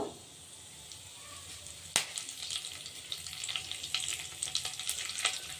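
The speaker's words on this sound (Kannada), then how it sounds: "ಒಂದೆರಡು ಸ್ಪೂನ್ ಎಣ್ಣೆ ಹಾಕ್ಕೊಂಡ್ಬಿಟ್ಟು ಒಂದು ಸ್ಪೂನ್ ಸಾಸಿವೆ ಹಾಕ್ಕೊಂಡಿದ್ದೀನಿ ಒಂದು ಸ್ಪೂನ್ ಜೀರಿಗೆ ಒಂದು ಸ್ವಲ್ಪ ಕರಿಬೇವು" Mustard seeds, cumin and curry leaves frying in oil in a home kitchen, a close sizzle that starts faint and builds with a sharp pop, crackling and spattering more densely toward the end.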